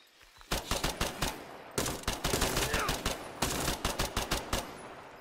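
Rapid bursts of automatic gunfire in the video game Incursion Red River, loud and close, firing in several clustered volleys with brief pauses between them.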